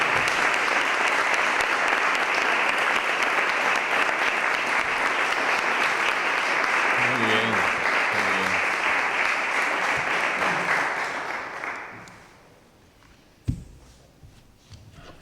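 Sustained loud audience applause for Feliciano Pérez Vera at a gathering on rociero tradition, a dense even clapping that tapers off near the end, followed by a few scattered sounds and a sharp knock.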